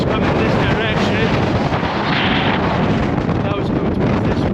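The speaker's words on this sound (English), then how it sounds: "The wind is coming this direction." Hurricane-force wind of about 80 mph buffets a GoPro Hero 10 microphone fitted with a windshield on its media mod, producing a loud, continuous rumbling roar with gusty surges throughout.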